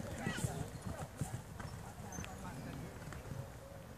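Horse hooves clip-clopping around a show course set with flowers, a loose run of hoof falls mixed with light movement noise while people talk over it.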